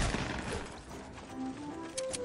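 Distant, muffled bursts of gunfire from Fortnite, rapid and fairly faint, over a steady wash of game noise with a few tonal beeps.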